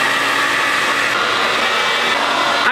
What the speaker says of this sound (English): we're gonna go ahead and get our hair dryer